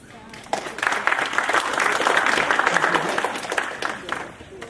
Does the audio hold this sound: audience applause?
yes